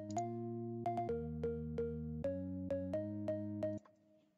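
A Korg M1 organ pattern in FL Studio, treated with reverb and panning effects, plays a rhythmic run of repeated chord stabs that change pitch every few hits, loud and upfront, ending with a brief fading tail and no talking.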